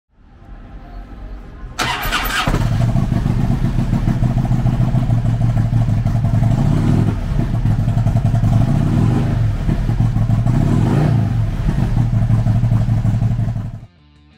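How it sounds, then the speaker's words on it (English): A 2007 Harley-Davidson FLHTCU Electra Glide Ultra Classic with a 96 cubic inch V-twin cranks and fires up, then settles into a loud, lumpy idle up close for about twelve seconds before shutting off. "Powered by a 96 cubic inch V-twin motor, the Electric Glide puts 92 foot-pounds of low-end torque through a 6-speed transmission."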